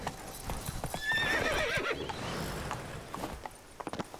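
Roach the horse in The Witcher 3 video game, with rhythmic clip-clop of hooves and a loud whinny in the middle, the hoofbeats continuing after it.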